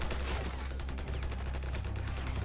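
Gunfire and explosions on a WW1 trench map in the video game Ravenfield, rapid distant shots in a dense, rumbling fusillade, fairly quiet.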